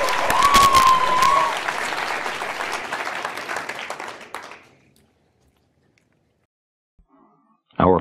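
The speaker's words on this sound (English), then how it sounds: "please give a round of applause for Kevin Hollerbach." A crowd applauds loudly for several seconds, with a whistle early on; the clapping fades out into silence, followed by a brief sound at the end.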